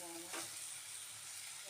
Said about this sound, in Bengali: মাংসটা এখনও কষছে। আর একটু তেলটা ছাড়লে তারপর আমার বাবাকে দেবো।